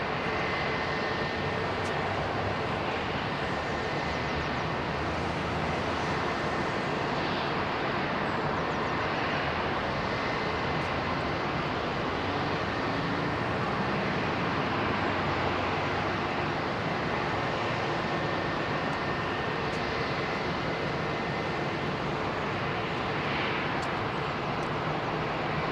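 An airliner in ITA Airways blue livery at London Heathrow Airport, heard as a steady, broad jet roar that persists unbroken for the whole stretch, with wind-like noise mixed in and no voices.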